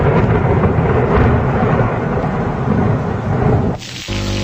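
A rumbling thunder and pouring rain effect plays during a Telugu stage drama, loud and continuous for about four seconds before it drops off sharply into a faint hum.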